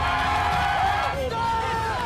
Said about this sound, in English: Tonight, the students scream.